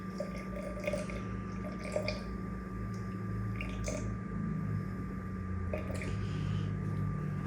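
Water poured into a sourdough starter for feeding, faint trickling and dripping with a few small splashes over a steady low hum, quiet and close.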